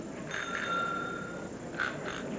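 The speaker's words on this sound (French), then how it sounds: "Est-ce que les sonnettes fonctionnent bien?" Quiz show answer bells ring in a television studio, two short bright bursts about a second apart, fairly faint against a quiet room with no talk.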